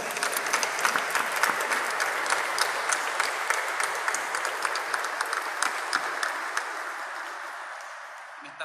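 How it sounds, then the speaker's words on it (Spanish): Sustained applause from a congregation at a Mass in the Basilica of Itatí, steady crisp clapping at moderate volume throughout that tapers gently toward the end. "Y a ella también le brindamos un fuerte aplauso"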